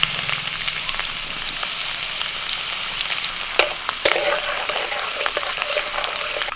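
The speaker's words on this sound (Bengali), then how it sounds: "কড়া তেল গরম হয়ে গেছে দিয়ে দিচ্ছি রসুন কুচি আদা কুচি" Chopped garlic and ginger fry in hot oil in a kadai with a loud, dense, crackling sizzle, broken by a couple of sharp clinks of a spatula near the end.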